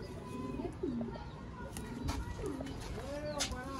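Soft cooing calls from Sialkoti pigeons, a few low rolling coos close by over a busy background hum with faint chatter.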